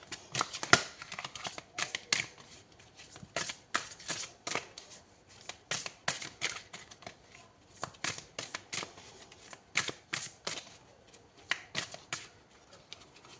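Tarot cards are shuffled and drawn close up, giving quick, irregular riffling snaps and papery clicks in rapid bursts, with no one talking.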